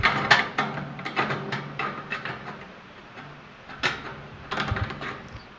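Metallic clanks and ratcheting clicks as a caster wheel is fitted onto a Char-Broil Performance 4-burner gas grill, a quick irregular series of close knocks and scrapes with short pauses between them.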